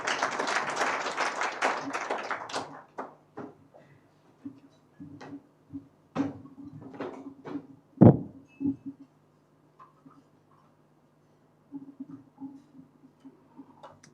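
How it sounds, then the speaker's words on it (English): Audience at a Foreign Service Academy ceremony applauds to welcome an ambassador: a loud burst of clapping for a couple of seconds, then thinning to scattered claps and a few sharp knocks in a quiet hall. "Let's welcome him with a round of applause"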